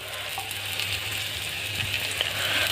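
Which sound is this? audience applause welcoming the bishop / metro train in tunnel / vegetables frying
vegetables frying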